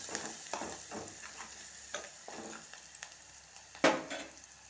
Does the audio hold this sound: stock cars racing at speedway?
no